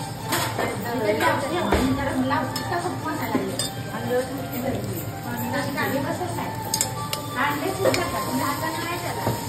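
Matar paneer masala with fresh-frozen peas fried and stirred in a pan, Kolhapur style: a spoon scrapes and clinks against the metal over a soft, steady sizzle, with someone talking throughout.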